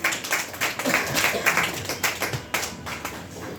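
An audience at a business development program gives a chief guest a round of applause, a fast, dense patter of many hands clapping, moderately loud and sustained throughout.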